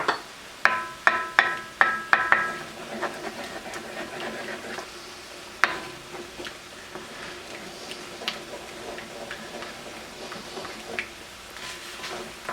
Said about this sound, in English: I'm going to put our egg in here and scramble that up